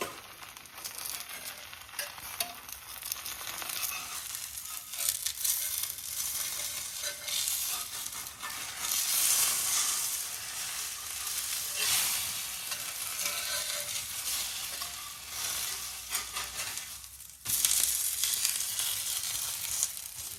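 A foxtail millet chilla cooks on a hot pan with a continuous sizzle that swells and fades, punctuated by brief scraping or lid sounds. No one speaks.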